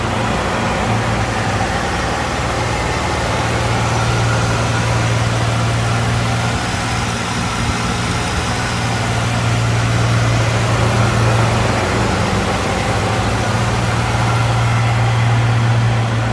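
The 8-liter V10 of a 1998 Dodge Ram 3500 Laramie dually pickup with automatic transmission idles steadily up close, a deep, even rumble with a constant low hum, heard alone for the whole stretch.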